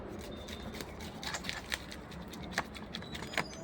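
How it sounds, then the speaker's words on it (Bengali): Scales being scraped off a large hilsa fish with a fork, giving quiet, irregular scratchy strokes with a few sharper clicks over low background noise. "এই মাছটা আমি ভালো করে আশ ছাড়িয়ে নেবো"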